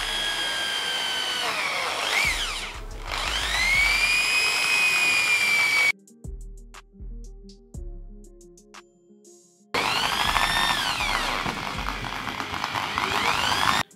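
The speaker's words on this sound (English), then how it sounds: "So I'm making drill into it and making a bass for it." A power drill boring into an old wooden speaker enclosure, loud whining bursts with rising and falling pitch, then a pause with scattered clicks and knocks before the drilling whine resumes, close and alone.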